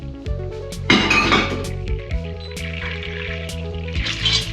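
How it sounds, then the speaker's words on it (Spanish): Flour toasting in hot oil as the base for a béchamel, stirred in a pan: a steady soft sizzle with clinks from the utensil against the pan, and a low, constant background hum. "Y vamos tostando la harina"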